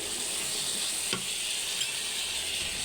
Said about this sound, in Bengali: এবার আমি তেজপাতা দিয়ে দিলাম